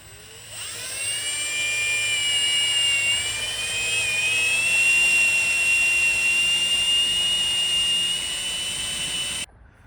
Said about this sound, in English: through there is the hole in our stud, drilled to be roughly this size